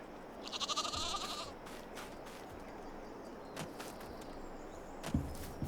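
Young sheep in a pen in the farming game Farming Simulator 22 give a short, faint bleating call early on, followed by quiet ambient farm noise with a few soft knocks.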